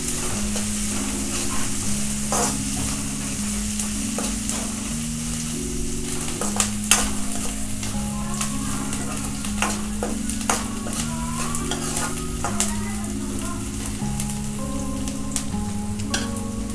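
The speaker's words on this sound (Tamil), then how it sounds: "கொஞ்சோண்டு கருவேப்பிலை போட்டு நல்லா கோல்டன் ப்ரௌன் கலர் வர வரைக்கும் நல்லா நம்ம வதக்கணும்." Onions sautéing with curry leaves in hot oil until golden brown for a hotel-style potato peas kurma, with a continuous sizzle and repeated stirring scrapes, and a low tonal hum underneath.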